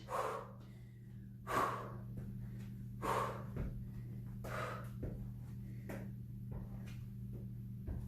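Sharp exhalations during a postpartum glutes, legs and calves strength workout, about five distinct breaths spaced roughly a second and a half apart, close to the microphone over a low steady hum.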